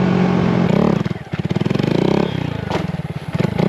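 A 2022 Honda Grom motorcycle with a new exhaust revs up and down up close, loud and rumbling with a choppy exhaust pulse.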